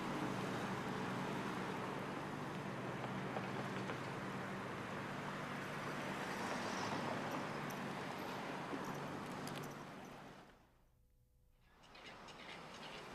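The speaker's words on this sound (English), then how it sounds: "perceiving a car turning during a street crossing" Street traffic at a wide crossing, a steady broad wash of passing vehicle noise that suddenly drops to near quiet for a moment before resuming.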